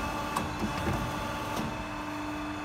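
Guide clamp of a DW38CNC CNC hydraulic pipe bending machine moving, a mechanical whir with a steady tonal hum and a few light clicks, fairly close and continuous.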